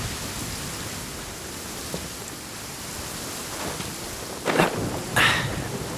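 Rain and thunder in the video game Genshin Impact, with a steady hiss of rainfall throughout and a couple of brief rumbling thunder swells near the end, no voices.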